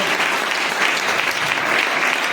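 A church congregation applauds and cheers during a testimony service, with thick, continuous clapping held at an even, loud level throughout.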